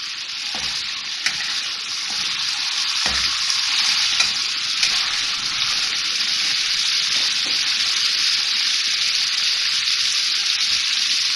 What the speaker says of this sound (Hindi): थोड़ा सा ऑयल के साथ इसको हम भूनेंगे